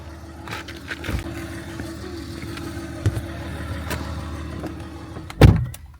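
Low, steady engine rumble and road noise fill the cabin of a moving car on the way to a half marathon in Edirne, with a few soft knocks and a louder thump near the end.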